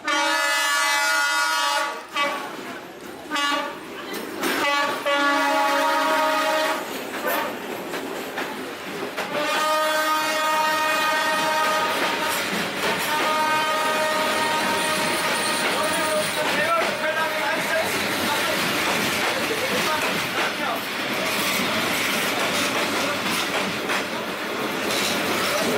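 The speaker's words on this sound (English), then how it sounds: "seeing that train then was just such a surreal experience" A train rolling through Hanoi, close and loud, with a long horn blast early on and steady clattering wheels and carriage rumble carrying on throughout; voices can be heard faintly under the noise.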